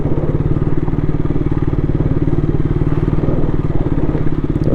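A KTM Duke 200 motorcycle ridden slowly along a bad, muddy road after a water crossing, its single-cylinder engine thumping loud and steady close up with a continuous rumble throughout.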